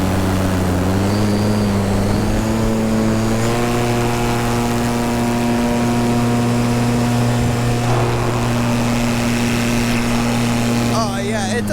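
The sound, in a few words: electric paramotor propeller at full throttle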